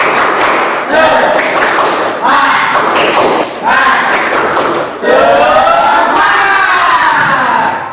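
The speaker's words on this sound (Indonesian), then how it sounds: "Kita harus tepuk semangat dulu." A classroom of students doing a tepuk semangat spirit clap chant: loud rhythmic group claps and thumps in bursts, with shouted voices and cheering throughout.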